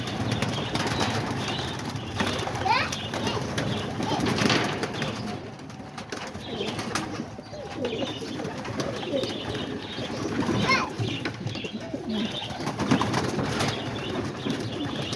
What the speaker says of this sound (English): Well, we'll open the door and let them fly out.